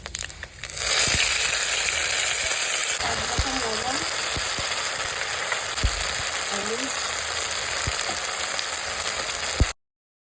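Bay leaf and panch phoron spices dropped into hot oil, giving a sustained dense sizzle that starts abruptly and holds steady with a few faint clicks before cutting off.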